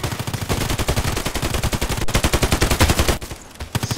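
Rapid automatic gunfire in the Contract Wars online shooter, a steady rhythmic stream of loud, close shots running almost continuously for about four seconds, with a short break and a few final rounds at the end.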